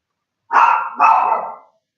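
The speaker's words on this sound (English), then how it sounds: "See what my dog's barking at." A dog gives two loud, close barks in quick succession, each about half a second long, with silence on either side.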